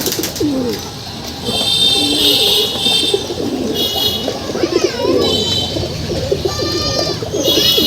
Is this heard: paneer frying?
no